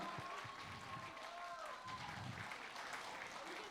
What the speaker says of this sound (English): Please, big round of applause for Allu Arjun sir.